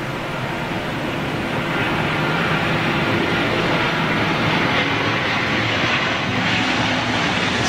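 A WestJet airliner comes in to land on the southern runway, its jet engines a loud, steady broadband roar that holds constant throughout with no voices.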